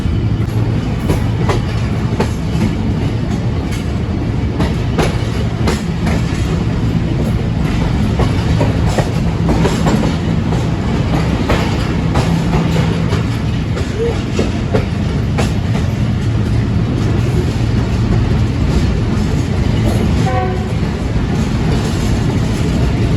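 Pakistan Express passenger train in motion, heard from inside a standard coach: a loud, steady rumble with rhythmic clickety-clack of wheels over rail joints, continuing throughout with no talk.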